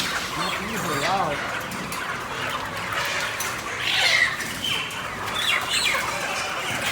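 Live chickens clucking at a market, repeated close clucks and squawks over a busy background of people talking and general bustle.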